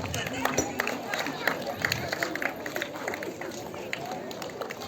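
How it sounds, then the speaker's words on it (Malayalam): An audience at a school award ceremony during a Student Police Cadet passing-out parade claps in a scattered, sustained burst of applause, with an announcer's voice over the clapping. "നല്ലൊരു കൈയടി കൊടുക്കാം."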